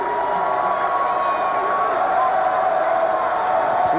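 A dense crowd fills a college basketball arena at Rutgers during a 1989 men's game against Seton Hall, with a steady, loud roar and murmur and no distinct peaks or cheers.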